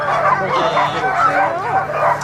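Sled dogs in harness on a musher's team bark and yip excitedly in a dense, continuous chorus, close and loud at an Alaska kennel near Fairbanks.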